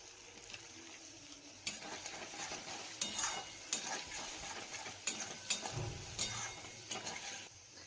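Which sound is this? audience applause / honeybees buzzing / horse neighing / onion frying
onion frying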